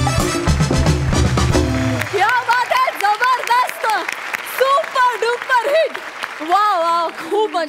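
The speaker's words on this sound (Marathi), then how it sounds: "जोरदार टाळ्या आहेत त्रिकुटासाठी" Audience applause for a comedy trio at a Marathi stage comedy show, steady clapping that runs under a voice talking over it for most of the stretch, after a brief burst of music at the start.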